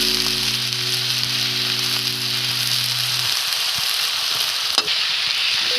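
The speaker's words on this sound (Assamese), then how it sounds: "এয়া এতিয়া অলপমান ভাজোঁ 3 মিনিটমান সময়" Eel fish and potato pieces fry in a pan, giving a steady, loud sizzle that holds throughout, with a low hum fading early and a brief clatter near the end.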